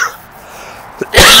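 A single sharp, explosive cough-like burst near the end, loud and close, after a stretch of quiet background.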